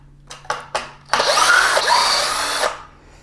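A power drill works screws out of a tire fender on a Veteran Patton-S or Lynx-S electric unicycle: three short whirring bursts, then one sustained close, loud spin lasting about a second and a half.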